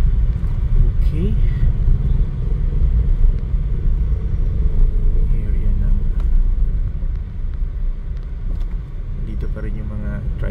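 A car cruises along Corrales Avenue in Cagayan de Oro early in the morning, its steady low engine and road rumble continuous and close throughout, easing slightly near the end.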